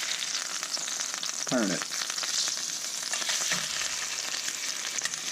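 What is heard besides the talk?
Delmonico steak sizzling while pan-searing with garlic and butter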